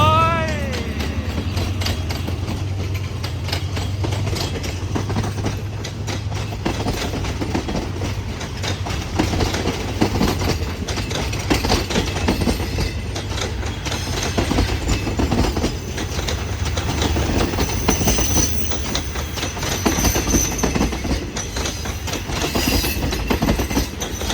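A Hitachi 4516 diesel locomotive of the State Railway of Thailand hauls train 83, Bangkok to Trang, after leaving Surat Thani. It gives a loud continuous rumble with rhythmic clickety-clack of wheels on rails and a brief squeal at the start, with no talk.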